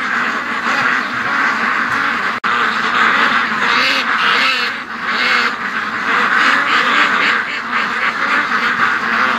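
A flock of ducks at a lake quack loudly and continuously, many birds calling over one another close by in a dense, overlapping chorus.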